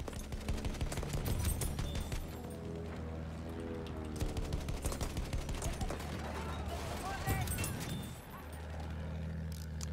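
An M1917 light machine gun rattles in Battlefield 1 gunfire, sustained bursts of rapid shots over a rumbling vehicle-like drone in a busy multiplayer battle.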